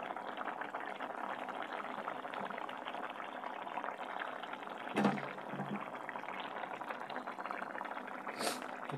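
Curry bubbles at a steady rolling boil as eggs are dropped in, with one soft splash partway through and faint sounds of moving about in the kitchen.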